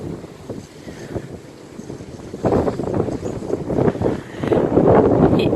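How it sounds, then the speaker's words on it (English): Strong gusts of coastal wind at Coffs Harbour, New South Wales, buffet the microphone in rough, surging bursts that grow louder toward the end, with no talking. "it's a bit windy"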